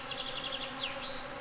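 Wasps buzzing in the video game Anka, a steady insect drone with small rising and falling whines, close and fairly quiet, alone without talk.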